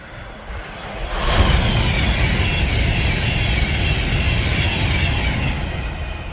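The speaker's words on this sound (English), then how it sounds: "Avanti West Coast approaching." A class 800 Avanti West Coast train approaching along the West Coast main line, a steady rushing roar of wheels and engine that swells after the first second and holds close and loud to the end.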